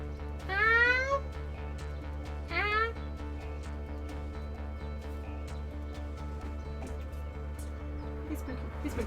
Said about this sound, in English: Oh, I love your kitty, Sophie.